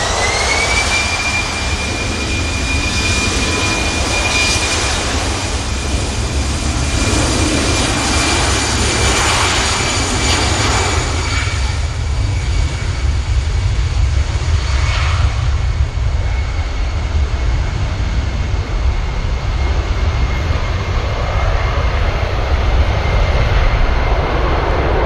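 EasyJet Airbus A320 jet engines roaring loudly and steadily at Manchester Airport after pushback, a continuous close whine and rumble with a high tone drifting slightly over time.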